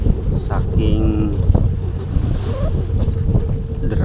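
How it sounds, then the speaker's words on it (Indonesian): Waves and gusting wind sound around a ship at sea in strong currents, a loud, continuous rushing surge with deep rumbling, some splashes and brief creaks throughout. "arus, gelombang dan angin, ditambah kecepatan kapal yang tidak sesuai"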